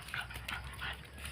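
A family of dogs gathers waiting to be fed, giving soft whimpers and short yips in a few brief bursts over a low steady background hum, fairly quiet and without talk.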